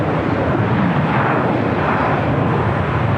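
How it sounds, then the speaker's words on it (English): A China Airlines A350-900 jet rolls for takeoff on runway 25 right at LAX, its engines producing a loud, dense, unbroken roar that stays steady throughout. "China Airlines A350-900 now rolling down to 25 right"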